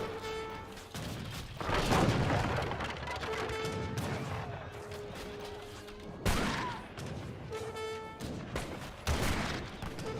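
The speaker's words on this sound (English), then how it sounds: "More villagers getting gunned on down." Musket volleys crack out in Age of Empires 3, three loud bursts of massed gunfire spaced a few seconds apart, with sustained game music tones running underneath.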